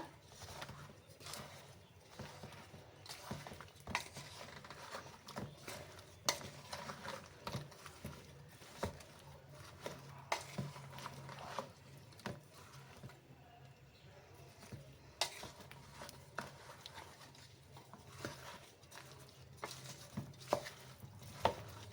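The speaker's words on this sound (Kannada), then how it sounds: "ನೀಟಾಗಿ ಮಿಕ್ಸ್ ಮಾಡ್ತಾ ಇದ್ದೀನಿ ಇವಾಗ" Chunks of sour raw mango pickle being mixed by hand or spoon in a bowl, a series of irregular wet clacks and knocks, moderately close, with a quiet steady background between strokes.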